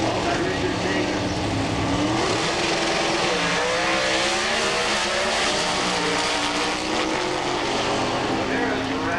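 A Pro Stock Trans Am drag racing car at the 1988 US Nationals, its engine roaring loud with rising and falling pitch sweeps, under a commentator's voice.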